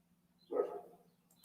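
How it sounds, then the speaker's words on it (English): A single short, muffled dog bark sounds faintly in the background of a quiet indoor room, with a low hum underneath. "My dog gonna bark."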